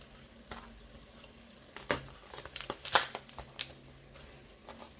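Zucchini and tomatoes cooking in a pan for squash caviar, with soft crackling and crinkling sizzle, occasional clatter of stirring and scraping at close range, no talk.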